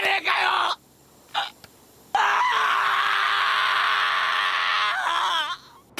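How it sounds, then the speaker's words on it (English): Intense screaming from the anime Attack on Titan, with a short anguished yell followed by a long, loud, sustained scream of several seconds, strained and shrill, fading into a sobbing cry at the end. "there's a lot of screaming and crying in these clips"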